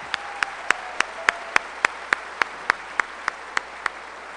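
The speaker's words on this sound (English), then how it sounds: "Can we give her a round of applause?" At a 2019 high school graduation ceremony, one close, sharp clapper beats out a steady, evenly spaced rhythm over a fainter background of crowd applause.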